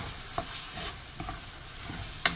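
Shrimp fried rice being stirred in a pan as soy sauce is mixed in, soft sizzling under several scraping strokes of a spatula, close and without speech.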